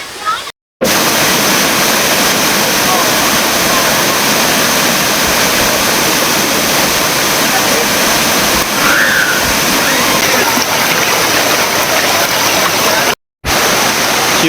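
Loud, continuous roar of Khlong Kratha waterfall in Thailand, a dense unbroken rush of water close by, with two brief silent gaps at the start and near the end.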